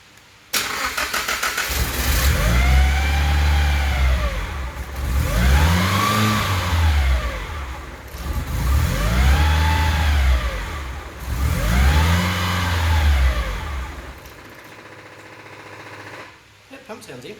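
An SR20DET-swapped Datsun 510 runs for the first time since 1992, its engine rising and falling in four long, loud revs over a steady idle before settling down. Voices talk nearby.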